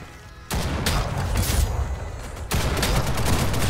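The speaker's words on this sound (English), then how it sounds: "Every time you shoot, someone dies." Gunfire in the video game Ghost in the Shell: dense bursts of rapid shots and booms fill most of the clip, loud and close, with a brief pause near the middle before the firing resumes.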